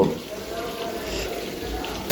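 Water is poured into a pan of okra curry cooked with mustard, giving a short, steady splashing gush that cuts off abruptly after about two seconds.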